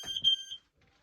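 A smoke alarm goes off with a shrill, piercing high-pitched chirp, a couple of short loud pulses that cut off abruptly into near silence.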